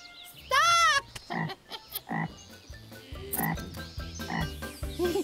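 A cartoon frog croaks in a kids' camping cartoon, several loud, bubbly croaks coming in bursts over a steady music bed, the first long and tonal, the rest shorter and spaced out.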